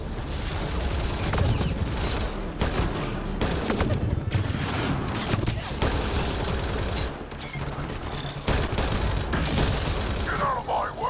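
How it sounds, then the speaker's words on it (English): Heavy, continuous gunfire fills a Mass Effect Andromeda firefight, loud overlapping automatic bursts with brief lulls, while voices talk over the shooting. "Shooting as fast as I can!"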